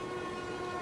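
A train in Marvel's Spider-Man 2 rolls with a loud, steady mechanical drone and sustained tonal whine, a brief continuous burst with no voices.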